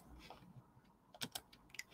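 A few faint keystrokes on a computer keyboard click in a quick cluster after a near-silent stretch, with no voices.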